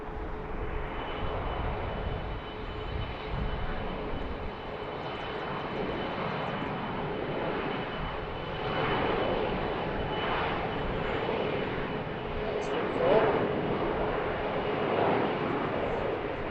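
Airliner taking off from runway 15 right at BWI airport in Baltimore, a steady broad engine roar heard from a distance, swelling slightly partway through, with no talk over it.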